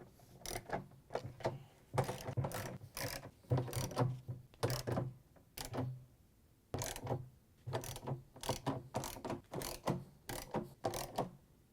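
A ratchet wrench tightens bolts on an LG/Kenmore washer tub, giving close, rhythmic bursts of ratcheting clicks separated by short pauses as each bolt is snugged down.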